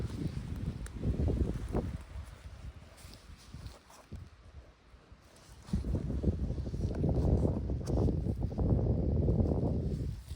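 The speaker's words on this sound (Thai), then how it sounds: "ลมวีวีหนาวหนาวเลยพี่น้อง" Cold wind gusts through a pine forest where mushrooms grow on pine logs, a rushing, rustling roar that dips quietly in the middle and then swells loud and steady near the microphone, with no voices.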